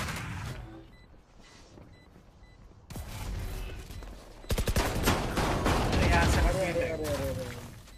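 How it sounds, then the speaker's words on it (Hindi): Rapid gunfire in a first-person shooter match, a shotgun among the weapons, a dense burst of close, loud shots filling the second half under excited voices talking over game chatter. "ये शॉटगन है दूर रह थोड़ा."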